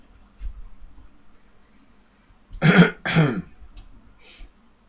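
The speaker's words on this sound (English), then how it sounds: "I'm pretty fine, except for this stupid cough." A person coughs and clears the throat twice in quick succession, close and fairly loud, after a quiet stretch with faint room noise.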